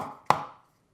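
A single crisp knife stroke slices through ginger and taps a chopping board, sharp and close, fading quickly into silence.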